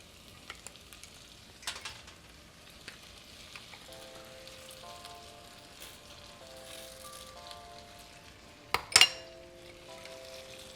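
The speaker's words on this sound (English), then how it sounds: "into that we're going to add the juice of 1 lemon" Cajun shrimp sauce with minced garlic and fresh lemon juice sizzles softly in a pan, a low steady fry under quiet stirring, with a sharp clink of a utensil or pot near the end.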